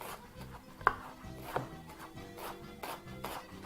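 Red onion is finely chopped with a knife in a steady run of soft, quick taps on a board, close up and fairly quiet, with a couple of louder knocks.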